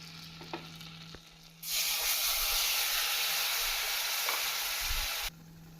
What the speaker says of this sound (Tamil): அரைத்த வெங்காய விழுதை முதலில் சேர்க்க வேண்டும்